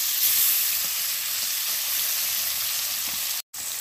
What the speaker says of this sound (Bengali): মাছগুলো আমি দুবারে ভেজে নেব।